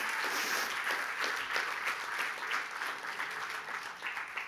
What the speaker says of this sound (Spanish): dele fuerte el aplauso al Rey de Reyes y Señor de Señores